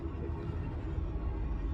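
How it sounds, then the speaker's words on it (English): Inside the Stinger ship in the Star Citizen video game, a low, steady engine hum drones while flying, a faint continuous rumble with no breaks. "the biggest problem with Stinger is the sound of the ship"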